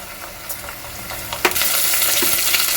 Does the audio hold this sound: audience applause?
no